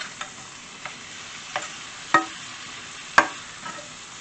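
Philly cheesesteak meat frying in a pan gives a steady hiss, broken by several sharp scraping knocks as a utensil stirs and turns it.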